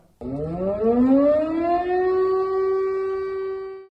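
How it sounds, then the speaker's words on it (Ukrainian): A loud air raid siren in Chernivtsi, Ukraine, winds up, its wailing tone rising in pitch and then holding steady, sounding alone and far-reaching. "До цього звуку сповіщення повітряної тривоги за останній рік містяни вже звикли"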